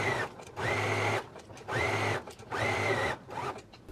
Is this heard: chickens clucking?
no